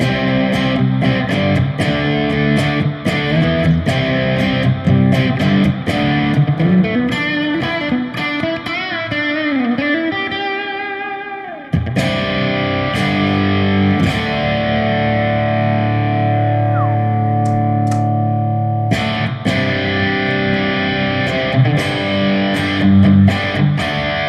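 Electric guitar played through a Headrush amp modeler, a loud distorted tone with effects, sustained chords and lines that drop out briefly near the middle and resume, with no talking.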